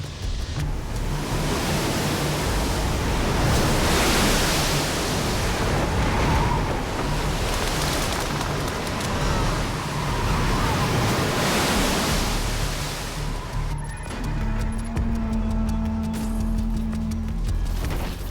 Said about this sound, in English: The winds have to be gusting at 150 miles per hour.